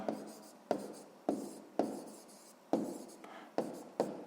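Handwriting with a pen on paper during a maths lesson, soft scratchy strokes in a steady series of about eight quick marks, close and quiet.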